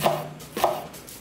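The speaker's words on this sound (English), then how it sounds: "I slice the onion into thin strips and break off the layers of the onion like so." Kitchen knife slicing an onion into thin strips on a cutting board, two crisp chopping strikes spaced about half a second apart, close and clear with no talk.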